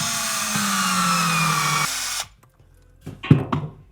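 A power drill drives into a wall stud through drywall in a garage, a sustained loud whine lasting about two seconds whose pitch drops partway through, then a pause and some clattering handling noise.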